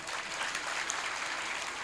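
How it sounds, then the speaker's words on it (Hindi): An audience of hundreds at a religious storytelling gathering claps steadily, a dense, even applause held for a couple of seconds at moderate distance without voices. "ताली बजाओ।"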